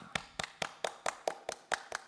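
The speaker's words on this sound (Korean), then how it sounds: "우리 박수로 축복하겠습니다" A church congregation claps in a slow, steady rhythm, about nine distinct claps spaced evenly, fairly quiet and with no talking.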